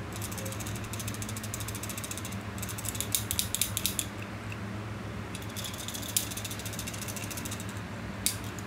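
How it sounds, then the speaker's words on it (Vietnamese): A Japanese mechanical watch is shaken by hand, its movement giving off a steady, faint ratcheting tick and fine metallic clicking against a constant low background hum. "Nó lắc hồi kim chạy nè."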